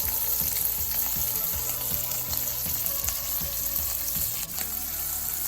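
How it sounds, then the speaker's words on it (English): Shrimp fry in a pan for Chinese fried rice, giving a loud, steady crackling sizzle with faint rhythmic tapping underneath, close-up and without speech. "First, I'm going to cook the shrimp."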